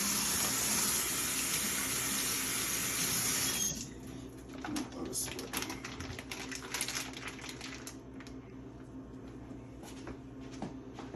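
Water gushes from a sink tap over racks of lamb chops, a steady loud stream that cuts off, followed by wet handling and clatter of meat in the sink.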